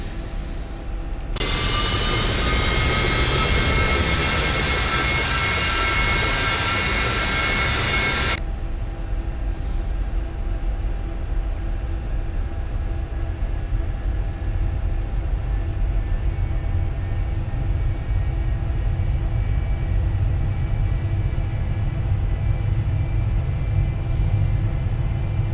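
A Cessna Citation jet starts its takeoff roll in the X-Plane 11 flight simulator: a loud, steady engine roar and rumble with a whining tone that eases after several seconds but keeps droning, and no one speaks.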